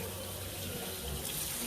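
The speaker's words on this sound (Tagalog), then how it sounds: "I prefer na ganyan yung running water." Running tap water pours into a sink during washing, a continuous splashing stream that holds steady and fairly loud, with no talk.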